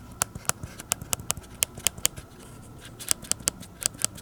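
Sharp, crisp key clicks from the working buttons of a SwissMicros DM42n calculator, pressed in irregular bursts of single taps and quick runs, close and clear with no talking.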